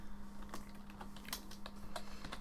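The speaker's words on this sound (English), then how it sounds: "Sorry about the typing, guys." A computer keyboard clacks in quick, uneven bursts of keystrokes, fairly quiet and close, over a constant low electrical hum, with no voices.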